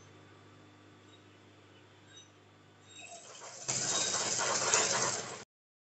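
A sewing machine stitches aso-oke fabric, starting as a faint mechanical hum and then running into a steady, louder whirring rattle for a couple of seconds before it stops abruptly.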